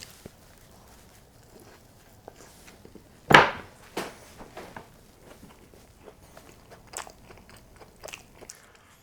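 A single loud, close crunch of biting into a hotdog topped with crunchy onions, followed by softer scattered crackles and chewing noises.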